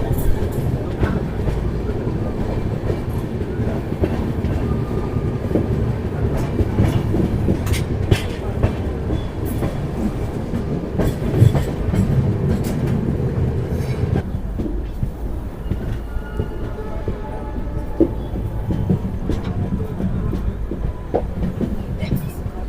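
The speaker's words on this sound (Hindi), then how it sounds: "हमारी ट्रेन का अराइवल हो चुका है मुरादाबाद जंक्शन के प्लेटफॉर्म नंबर 3 पर" Sealdah Express pulls into a platform at Moradabad Junction, its wheels clattering and rumbling steadily with occasional clanks and squeals, loud and near, with faint voices mixed into the continuous rail noise.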